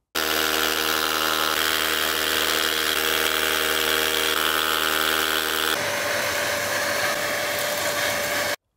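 A steady, loud whirring drone of a power drill boring holes to anchor post bases runs unbroken, then its pitch and tone shift abruptly partway through as the drill keeps running.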